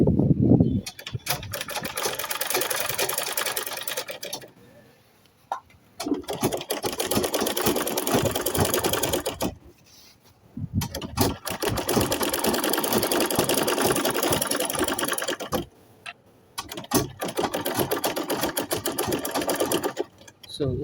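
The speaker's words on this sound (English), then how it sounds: "I'm using the machine foot as a guideline" Sewing machine stitching a shirt dress seam with the presser foot as a guide, running in three long bursts of steady whirring separated by short pauses, close and loud, with some talk nearby.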